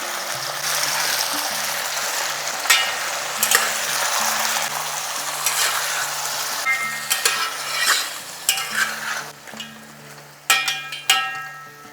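Mutton with onion paste sizzles steadily in a hot pan while a spoon scrapes and stirs, with intermittent clinks of metal on the pot, close up.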